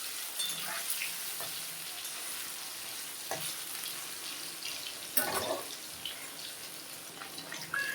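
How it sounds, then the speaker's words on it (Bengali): Paneer frying lightly in mustard oil, a quiet, even sizzle with a few soft scrapes and knocks, fairly faint. "এখন আমি পনিরগুলো হালকা করে একটু ভেজে নেবো"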